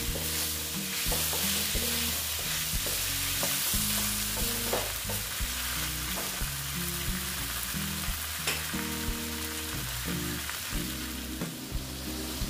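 Soybean and chana dal stir-fried in a pan, a steady close sizzle broken by frequent rhythmic scrapes and knocks of the spatula throughout.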